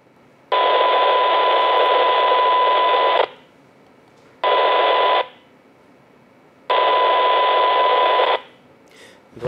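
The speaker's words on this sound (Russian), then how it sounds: "Насколько она быстро откроется от помехи, отстоящей на 10 кГц." Baofeng AR-152 handheld radio receiving a strong interfering signal 10 kHz off its tuned channel, heard as three loud bursts of steady tone over static, each cutting off sharply to quiet hiss, the middle burst shortest.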